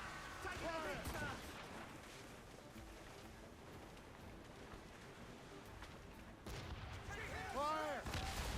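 Ship cannons boom during a naval battle in a video game, heavy low blasts and rumbling impacts running throughout under steady shouting voices and music, with louder bursts near the start and again near the end.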